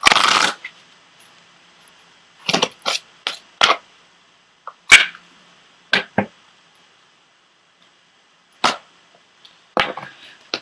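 Tarot cards being shuffled and pulled from a deck, brisk riffling bursts at the start followed by scattered short flicks and slaps of cards, close and crisp in an otherwise quiet room.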